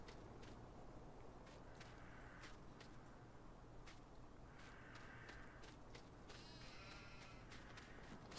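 Sheep bleat in a farm sheep yard in Farming Simulator, several short calls spread across steady ambient farm background at moderate distance, with footstep-like sounds and no talk.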